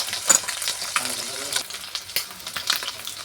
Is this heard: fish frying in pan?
yes